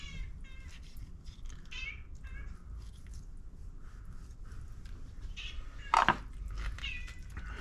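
A cat begging for turkey giblets meows repeatedly, with a louder, sharper cry partway through, over a low background hum.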